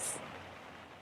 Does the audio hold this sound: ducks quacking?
no